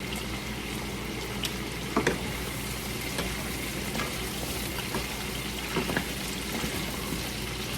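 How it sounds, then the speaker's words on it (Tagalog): Vegetables sautéing in a hot pan for a crispy sisig, a steady broad sizzle with faint stirring clicks and scrapes throughout, close and moderately loud with no talking. "Gisa lang tayo ng gulay"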